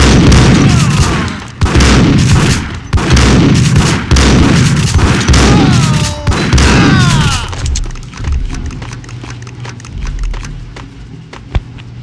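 Heavy gunfire in a Max Payne parody, loud and close, with repeated booming shots in rapid bursts that give way to quieter rumbling and scattered thumps toward the end.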